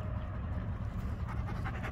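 A dog pants steadily and fairly close for the whole stretch, a rough continuous breathy rhythm with no voices over it.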